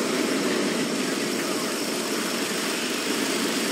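A transport vehicle's engine arriving in the video game Section 8: Prejudice gives a steady, dense rumble that fills the whole clip at an even, fairly loud level.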